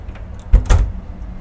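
Aft salon door on a 1985 118-foot Burger superyacht being opened, two close, solid knocking thuds about a fifth of a second apart against a quiet background hum.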